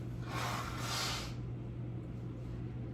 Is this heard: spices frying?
no